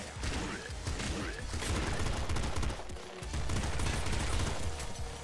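Dense, continuous shotgun fire from the top-down shooter Nuclear Throne, loud and rapid with layered blasts and game effects filling the whole stretch without pause.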